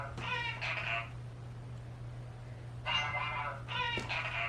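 A phone alarm tone imitating a cat's meow plays in two bursts, one short and then a longer repeated pair, over a steady low electrical hum with no talking.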